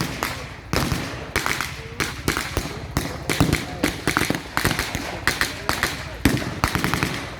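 Rapid bursts of blank gunfire from British troops at a WW2 battle reenactment at Quex Park, sharp cracks and rattling volleys repeating close by across the whole stretch, with voices faintly underneath.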